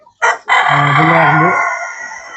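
At a poultry farm a rooster crows once loudly and close, a drawn-out call that fades at the end, after a brief spoken word at the start.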